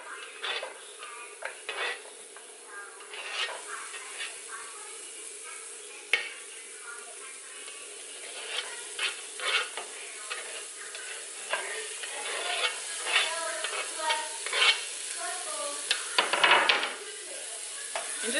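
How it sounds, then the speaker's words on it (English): Peppers and onions sautéing in olive oil in a pan, a steady close hiss with scattered scraping and clinking of a utensil against the pan throughout, no voices. "So to cook it, I have my olive oil in the pan. And I'm going to go ahead and add my peppers and onions."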